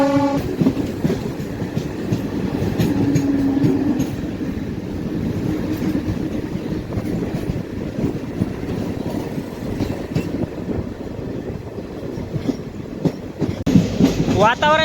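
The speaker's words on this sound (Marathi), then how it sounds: "आपली तपोवन एक्सप्रेस जी आहे ती निघालेली आहे ठाणे रेल्वे स्टेशनवरून" Tapovan Express passenger train leaving Thane station toward Nanded, a loud steady rumble of wheels on rails with rhythmic clickety-clack, heard close from on board the whole time, and a faint voice briefly under it.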